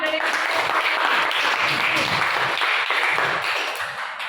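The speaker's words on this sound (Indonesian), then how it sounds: "Oke, tepuk tangan." A crowd claps steadily for several seconds, a dense wash of hand claps that tapers off slightly toward the end.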